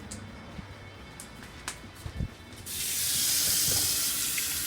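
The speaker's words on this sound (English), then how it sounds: "let me go wash my hands" A kitchen tap runs into the sink for handwashing; a few faint clinks and bumps come first, then water gushes steadily and close for the last two seconds.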